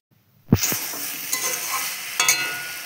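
Stirring in a frying pan as ground panmuhuri powder, sugar and spice paste go into a vegetable curry, a steady close sizzle with a few sharp scraping strokes of the spoon.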